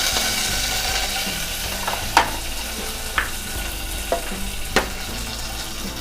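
Curry leaves frying in a pan give a steady, fairly loud sizzle, broken by a few sharp stirring clicks and scrapes spaced through the sound.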